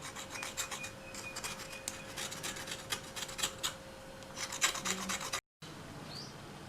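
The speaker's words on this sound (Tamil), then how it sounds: "இந்த மாதிரி எடுத்துட்டு வட்ட வட்ட துண்டுகளாக கட் பண்ணிக்கலாம்." A knife cuts a green snake gourd into round slices, giving a run of short rasping strokes over a steady background hum, with no talk.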